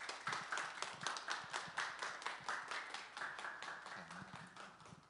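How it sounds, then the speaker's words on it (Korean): Audience at a talk concert clapping to welcome a guest speaker, a dense, rapid patter of many hands that stays steady and fairly faint before tapering slightly. "여러분 박수 부탁드리겠습니다."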